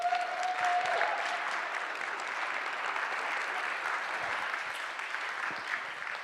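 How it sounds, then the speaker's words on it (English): Applause for the evening's speakers rolls on evenly from a sizeable audience, moderately distant and steady, with a faint whistle at the start. "let's give a round of applause for all of our UpScale speakers tonight"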